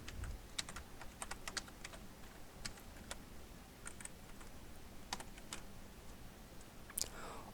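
Rapid keystrokes on a computer keyboard while Java code is entered, an irregular run of light clicks with brief pauses, fairly close and alone with no talking.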